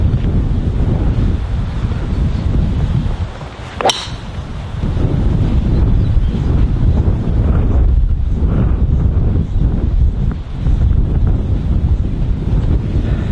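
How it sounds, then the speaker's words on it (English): Strong wind gusting to about 75 km/h buffets the microphone in a steady, roaring rush, with a sharp thump partway through as a gust hits. "we've had wind here gusting probably 75 k's here"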